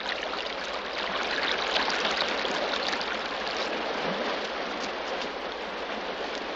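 Water gushes steadily for washing gold in a Western gold-digging setting, a constant rushing, splashing hiss at moderate loudness with no voices.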